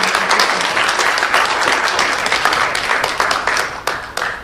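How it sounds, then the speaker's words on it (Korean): A large forum audience applauds loudly to welcome speakers at an international peace forum marking the 60th anniversary of the Korean War armistice, a dense, continuous wash of clapping that thins slightly near the end. "한번 큰 박수로 환영해"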